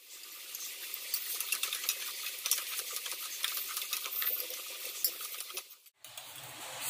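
Milk being stirred in a pot as vinegar is added to curdle it for rasmalai, a steady scraping, swishing stir that runs continuously and close up, with a brief pause near the end.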